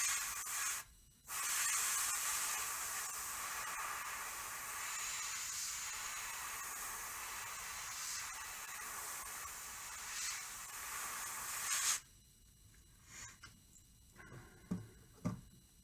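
Airbrush spraying paint onto a fire tiger crankbait lure at low pressure, a steady close hiss that runs almost continuously for about eleven seconds with one brief pause, then stops and gives way to quiet handling clicks.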